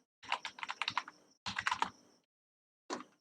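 A computer keyboard is typed on to enter a comment in an app, with two quick bursts of crisp close keystrokes, a pause and then a final few taps.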